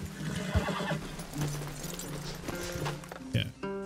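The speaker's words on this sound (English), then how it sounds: "Leave the horses in the trees there." Horses in Red Dead Redemption 2 whinny and snort loudly nearby, with clip-clop hoof steps and shifting tack around the neighs.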